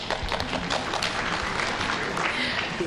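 Forum audience applause, a steady dense patter of many hands clapping at moderate distance in a hall, continuous throughout.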